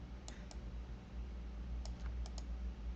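Several sharp key clicks on a computer keyboard while editing a toon shader in Blender, scattered in two small clusters over a steady low hum, fairly faint and close.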